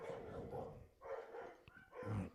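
A pet dog erupts into frantic barking and yipping at another dog on the far side of a shared wall, close and loud, in repeated bursts with short pauses between them.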